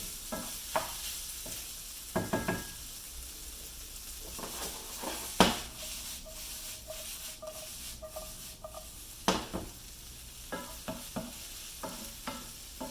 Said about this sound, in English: making a quick little stir fry